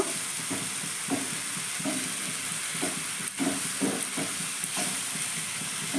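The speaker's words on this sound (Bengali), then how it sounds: "এবার আমি এখানে পেঁয়াজ বাটাটা দিয়ে দিলাম পেঁয়াজ বাটাটা আমি হালকা করে ভেজে নিব" Onion paste fries in hot oil with a soft, steady sizzle, broken by repeated stirring scrapes at a loose, regular rhythm; the whole sound is fairly quiet and close.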